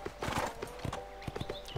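Horse hooves clip-clopping during horseback riding in the Go Vacation video game, a quick uneven series of close hoof clops with a brief whinny-like tone, no talking.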